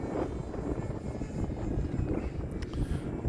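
Electric motor of a Hobbyzone Aeroscout S RC plane flying in strong wind, a steady whirring drone under heavy wind rumble, held at a fairly constant level throughout.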